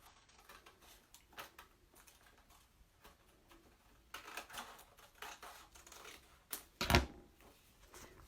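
Ordinary paper or kitchen scissors trim fabric for a homemade face mask. Faint, scattered snips and clicks sound close by in a quiet room, with one sharper, louder cut near the end.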